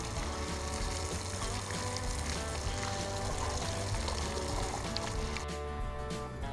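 Water pours into a pan with Dawn dish detergent, a dense continuous rushing and bubbling close by, holding steady for several seconds before tapering slightly near the end, with no talk.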